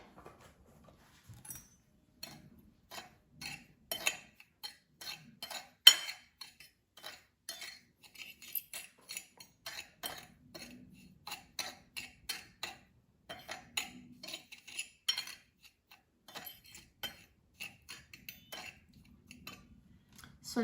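Sugar and cinnamon are stirred together in a bowl, making a long run of light, irregular clinks and taps of a utensil against the dish, close and fairly quiet, with no talking.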